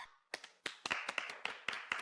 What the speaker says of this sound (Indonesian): kita berikan tepuk tangan untuk keberanian Shueman